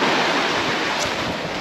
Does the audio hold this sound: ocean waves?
yes